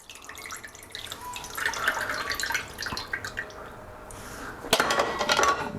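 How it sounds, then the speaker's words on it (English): Lemon juice tipped from a container through a grater into a bowl, spattering and dripping liquid close by, ending in a louder splash and burst of spray. "I just splashed lemon juice all over myself."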